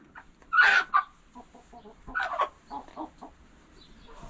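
Hens in a backyard coop squawk and cluck loudly in a few sharp bursts, then keep up lower, choppy clucking close by with no talk over it.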